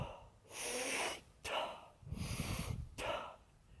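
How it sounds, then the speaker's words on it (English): Deep Wim Hof-style breathing close to the mic: three forceful full inhales through the nose, each followed by a relaxed release, alternating in a steady rhythm with brief pauses between. "what you want to do is do a full breath like that and let it go"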